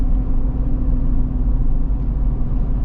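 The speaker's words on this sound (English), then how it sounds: "There's a bit of tire noise, but it's not any worse than like a Wrangler or Bronco" Steady low tire and road roar inside a moving custom Toyota 4Runner, a constant close rumble with no breaks and no voices over it.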